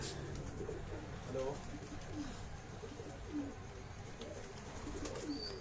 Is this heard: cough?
no